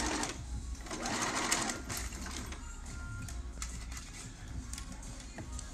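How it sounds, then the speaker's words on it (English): A sewing machine runs steadily while stitching a structured, lined sleeve seam, with a close, fast mechanical whir and rapid needle clatter. It continues without pause through the whole stretch, with only faint background noise underneath. "So I'm stitching it with a half an inch because I like to know right where my seam allowance is for everything."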